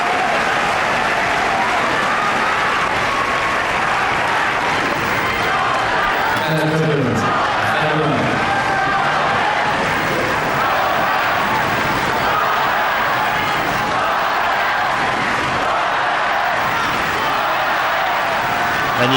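A tennis crowd at the 2006 Monte Carlo Masters final between Nadal and Federer roars with loud, sustained applause and cheering, with shouts rising midway and a commentator speaking over the noise.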